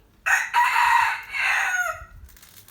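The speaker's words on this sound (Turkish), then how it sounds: "Burada da horozla tavuklar var." A rooster crows loudly nearby in a long, drawn-out call, with faint clucking from chickens around it.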